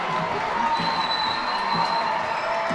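A minor-league baseball stadium crowd at a Harrisburg Senators versus Reading Fightin Phils game roars steadily after a home run, a broad sustained wash of cheering heard from a distance with scattered clapping.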